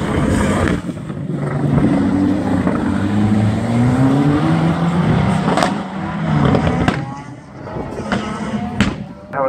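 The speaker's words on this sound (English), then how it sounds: "Car 30 just leaving the line is Steve Harkins in his Ford Sierra Cosworth." A Ford Sierra Cosworth rally car leaves the start line at the Brean Stages Rally, its engine revving and rising in pitch as it pulls away, loud and close, with a commentator talking over it.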